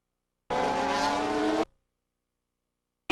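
Sports prototype race car sliding out of a hairpin at Mondello Park, its engine roaring loud and close for about a second before cutting away, then bursting in again at the very end.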